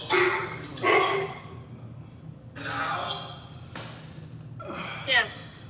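A dog barks in several loud bursts spaced a couple of seconds apart, with people talking around the barks.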